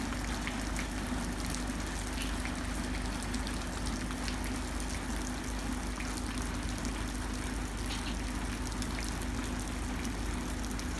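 Light, steady rain falls over open ground in rural Thailand, making an even, continuous hiss with no pauses or other sounds.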